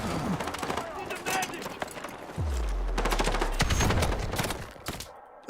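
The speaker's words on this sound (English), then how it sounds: "Someone's shooting at me." Rapid automatic gunfire in a multiplayer shooter video game, with repeated bursts and shots throughout and a deep rumbling hit in the middle, heard under a person talking.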